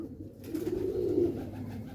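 A pigeon coos in a low, rolling call that swells and fades over about two seconds, close by and alone with no talk.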